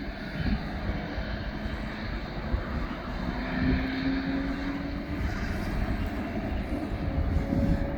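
Aerologic cargo airplane at East Midlands Airport, a steady broadband jet engine roar sustained and moderately distant throughout, with no talking.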